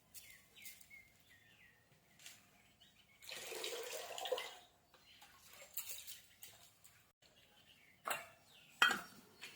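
Rice mixed with a little sticky rice is swished and rinsed in water for rice porridge, giving splashy, sloshing bursts and a few light clinks against the pot, with faint birdsong in the background and no talk.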